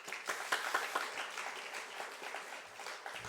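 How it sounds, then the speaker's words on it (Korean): Welcoming applause at a university chapel service, a steady patter of many hands clapping at moderate level for about three seconds, with no voices over it. "여러분 환영의 박수를 한번 하겠습니다"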